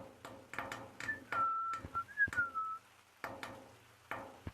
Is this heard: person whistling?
yes